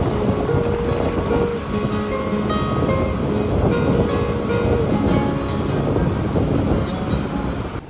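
Monsoon ocean waves wash steadily onto a beach, a dense, continuous roar of surf with wind, loud and close throughout with no voices.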